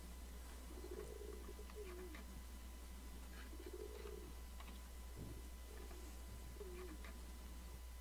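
Bird cooing in the video game Gabriel Knight 2: The Beast Within, several soft, faint coos spaced apart over a quiet low hum.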